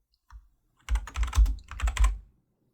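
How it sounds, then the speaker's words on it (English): Typing on a computer keyboard: a couple of isolated keystrokes, then two quick bursts of rapid, close clattering taps with a short pause between, alone in a quiet room. "I'm going to try and type this on the correct keyboard."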